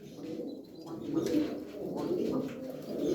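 Domestic flying pigeons, white birds kept for flying, cooing in low repeated rolling calls at close range, steady and continuous throughout.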